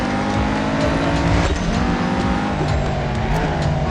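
A race car in the mobile racing game Real Racing 3 runs an autocross course, with a loud continuous engine roar that rises and shifts in pitch and tire noise underneath, steady throughout without any voice.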